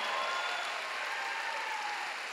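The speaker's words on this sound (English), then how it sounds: "Clap your hands, all you people." Audience at a church healing conference clapping hands in sustained, dense applause that holds steady throughout, filling the room with a continuous wash of claps.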